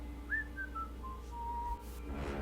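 A single human whistle descends in a few gliding, falling notes, thin and moderately near against a low steady background hum.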